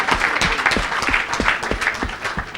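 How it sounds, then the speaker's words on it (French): An audience applauds for the people of Brussels at an evangelistic gathering, with dense, steady clapping from many hands that carries on throughout. "Est-ce qu'on peut acclamer pour les Bruxellois?"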